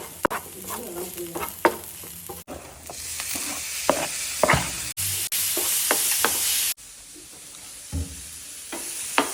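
Masala with coriander powder is stirred in a pan for fried mackerel: repeated close spatula scrapes and stirring strokes over a steady oily sizzle, broken by a few abrupt cuts, with no talking.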